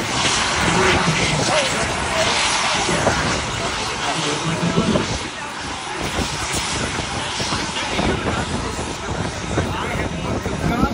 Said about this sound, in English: And the airplane comes back.